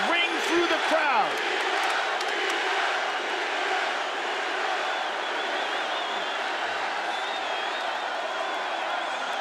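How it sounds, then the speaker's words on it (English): Arena crowd at UFC 202, McGregor versus Diaz, roars and chants in a continuous loud, distant wall of voices, with a few whoops rising early on. "the chants of Diaz ring through the crowd"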